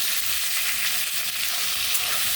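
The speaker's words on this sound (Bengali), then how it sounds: "ভেজে দেবো পটলটা।" Pointed gourd (potol) pieces frying with a little turmeric in an open pan, giving a steady, close, continuous sizzle with faint crackle and no speech.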